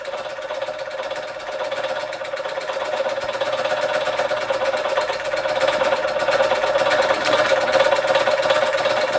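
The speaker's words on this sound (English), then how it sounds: "So Empire B-33 chugging away quite nicely after its restore." A restored Empire B-33 model steam engine runs steadily nearby, a busy mechanical chugging with a faint tonal hum that grows slightly louder toward the end, with no voices.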